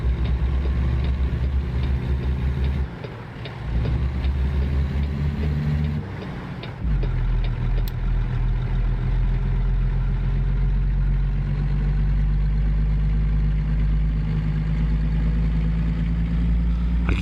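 A heavy truck engine in American Truck Simulator hums and drones steadily at low pitch, briefly dipping twice as if shifting gears before settling into a constant loaded rumble, with no talking.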